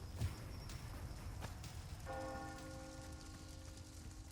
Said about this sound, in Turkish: Çan çalıyor tamam.